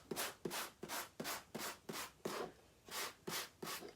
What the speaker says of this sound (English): So you can just kind of take that crispness away by just rubbing over it with sandpaper.